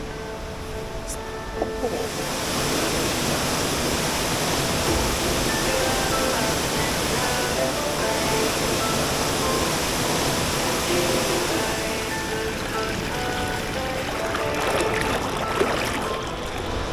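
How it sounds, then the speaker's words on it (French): Waterfall on Mauritius, the second cascade along the trail, roars as a steady broadband wash of falling water, loud and continuous throughout with no pauses. "À la deuxième cascade."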